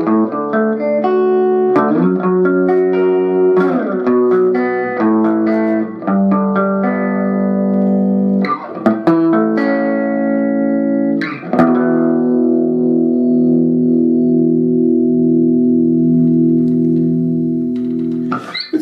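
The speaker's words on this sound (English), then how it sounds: "tingle of distortion on the edge of the tone there" An electric guitar through a Bugera V5 Infinity tube amp with light distortion, slightly gritty tone, plays chords and picked notes, ending on a long ringing chord that sustains steadily.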